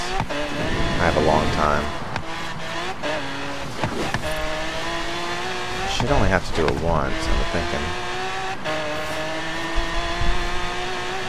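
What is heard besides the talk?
car driving in Forza Horizon video game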